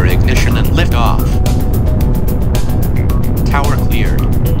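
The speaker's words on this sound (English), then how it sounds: "engine start, booster ignition and lift off." A rocket engine roars through start and lift-off in the Space Agency video game, a loud, continuous low rumble under a voice speaking over it.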